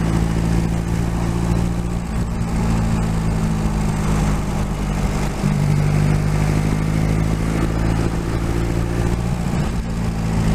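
Reliant 750 hardtail trike with a Scorpion sports exhaust, engine running steadily and loud throughout a test ride, a continuous low throbbing drone with slight shifts in pitch and no talk.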